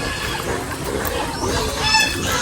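Turkeys on a farm in a coconut grove give harsh, honking calls that overlap in a steady, noisy chorus, fairly close and loud with no clear pauses.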